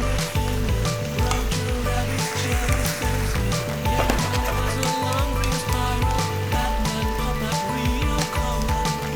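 Vegetables and plenty of mushrooms frying in a pan, a loud, dense, continuous sizzle with bursts of crackle and occasional stirring knocks close by, and a voice talking faintly underneath.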